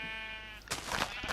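A single Minecraft sheep bleat, harmonic and wavering, followed by a burst of noisy rustling and thumps.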